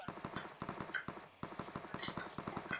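Automatic gunfire in the mobile game PUBG Mobile: rapid, evenly spaced shots in two sustained bursts split by a brief pause, fairly close and moderately loud.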